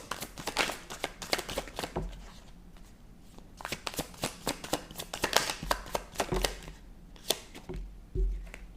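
Tarot cards being shuffled by hand, a dense run of quick riffling flicks and soft taps that keeps going throughout, close and fairly loud, with no talking.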